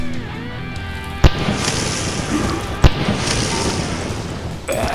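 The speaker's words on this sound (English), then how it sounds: "Those explosions came from the spitter." Two sharp booms a second or so apart, explosions from a spitter enemy in the video game Road to Eden, burst over a dense, steady wash of ambient game noise.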